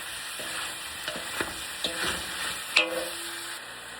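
Pansit noodles with cabbage, carrots, bell peppers, snow peas, fish ball, liyempo and shrimp are tossed in a large wok, giving a soft sizzle with a few scraping and clinking strokes of the utensil, close by and without talk.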